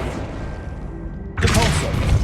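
A Depulso spell cast in Hogwarts Legacy, a single loud burst with a heavy thump that cuts in suddenly after a quieter stretch, set over ongoing game sound.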